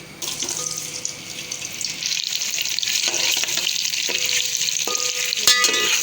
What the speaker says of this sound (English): So firstly we have to fry the potatoes.